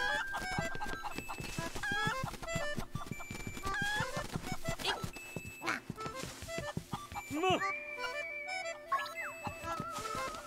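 A rooster clucks and squawks in The Legend of Zelda: Link's Awakening, with chirpy electronic game tones and bleeps around it and a rising flutter partway through.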